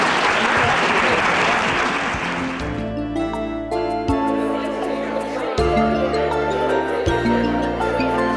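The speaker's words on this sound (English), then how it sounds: "So maybe a round of applause for these guys up here on our panel." A roomful of conference attendees claps for a panel of speakers, loud dense applause for the first few seconds before it thins out and gives way to music and quiet room sound.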